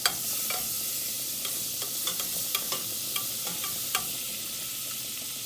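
Star margarine sizzles in a frying pan with a steady, close hiss and scattered crisp pops and crackles. No one speaks.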